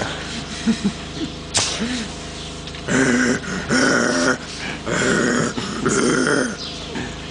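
A voice imitates a dog's growl in several rough, drawn-out bursts, close and loud, separated by brief pauses.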